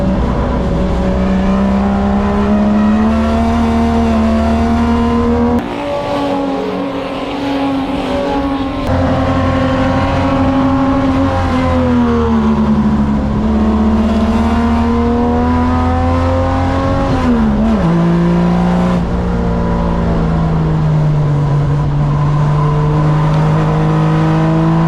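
Holden HQ race car at full throttle around the Baskerville circuit, a loud sustained engine drone rising and falling through gear changes and corners, with brief dips as it lifts off, recorded close from onboard with no talking.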